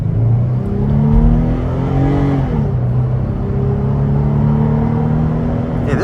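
A 2024 Toyota 4Runner SR5 engine pulling hard under acceleration, heard from inside the cabin as a loud, steady rising drone with audible gear changes, and no voices.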